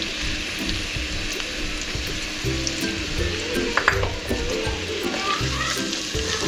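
Onions fry in hot oil in a kadai, giving a steady close sizzle. Soft clinks and stirring scrapes come through the sizzle, and a few brief sharper pops stand out near the middle.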